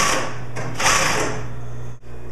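An industrial sewing machine runs at a slow, steady speed with a close, even motor hum and needle clatter, then stops abruptly near the end before starting again.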